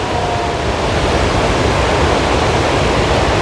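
A small waterfall at Athirappilly, Kerala, gives a steady, dense roar of rushing water, loud and unbroken throughout with no voices.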